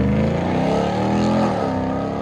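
A supercharged 6.2-liter 2021 RAM TRX with Flowmaster Outlaw exhaust rumbles loudly up close, a deep throaty engine roar with a brief rise in revs mid-way.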